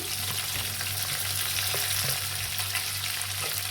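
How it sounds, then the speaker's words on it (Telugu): Onions, ginger, green chillies and curry leaves frying in oil in a village-style kitchen, a steady close sizzle with a low background hum and occasional stirring scrapes. "ఇప్పుడు బాగా ఫ్రై చేసుకోవాలి"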